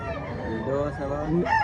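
A rooster crows at a chicken expo in Mantalungon, Barili, Cebu, a rising harmonic call near the end over a busy crowd murmur, with people talking and another fowl voice close by.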